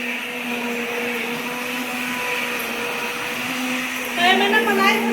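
An electric blender churns soaked cream into butter with a steady, loud motor whine that stays even for several seconds, then wavers near the end as a voice briefly comes in.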